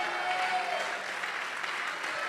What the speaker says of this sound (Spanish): Oh, aplauda a Cristo, amado hermano y hermana